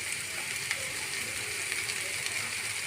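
Onion sautéing in a pan with salt for pasta, a steady close sizzle that stays even throughout, with faint occasional stirring clicks.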